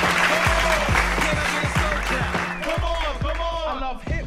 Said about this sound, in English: So clap for hip hop one time.